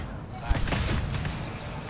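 Video game gunfire crackles in a loose burst of shots with one sharper report near the start, set in a busy, noisy mix without clear speech.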